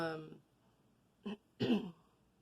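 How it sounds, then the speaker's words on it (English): Throat clearing off camera, two short rough bursts close to the mic following a trailing bit of voice, then quiet. "I had to clear my throat off camera"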